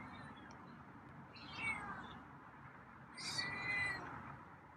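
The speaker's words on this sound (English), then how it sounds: "So you got some meows for me." A feral cat gives two drawn-out meows, the second higher and longer, over a constant low background hum.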